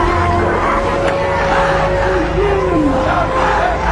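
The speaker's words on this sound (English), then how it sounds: "Every Friday after prayers, crowds chant "Death to America."" A large crowd in Tehran chants loudly in unison after Friday prayers, a dense steady roar of many voices close by.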